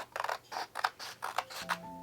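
Sharp scissors cut through a craft piece meant for a board with about seven quick, crisp snips in a steady rhythm, close and fairly quiet, while a faint tone joins near the end.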